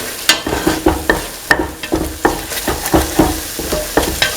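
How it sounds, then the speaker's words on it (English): Eggs scrambled and fried in a pan, a utensil scraping and tapping in a quick uneven rhythm over a soft continuous sizzle, close and fairly loud, with no talk. "Now scramble the egg."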